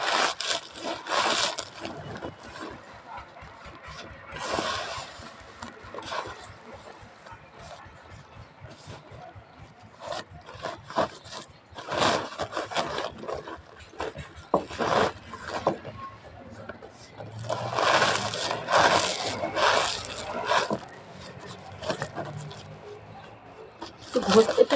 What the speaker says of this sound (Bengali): এটাকে আমি বস্তা করে এবার ঘষবো। দেখুন আমি ঘষছি।